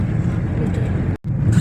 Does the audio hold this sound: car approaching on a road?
yes